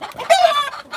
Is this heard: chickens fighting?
yes